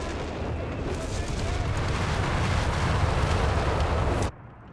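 Artillery barrages in a Company of Heroes 3 4v4 match with many howitzers, a continuous roar of heavy booms and rumbling explosions that cuts off abruptly near the end.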